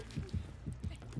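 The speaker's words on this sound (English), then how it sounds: "But I heard a second heartbeat." Heartbeat in the Dead by Daylight video game, a steady run of muffled low double thumps pulsing about twice a second, close and alone.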